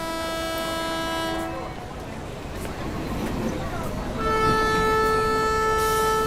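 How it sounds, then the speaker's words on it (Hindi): A train horn sounds at a station as the Karwar Express departs, with long steady tones at the start and again near the end, and a rumbling station din in between. "सर ट्रेन करेक्ट टाइम पर छूटेगी ना?"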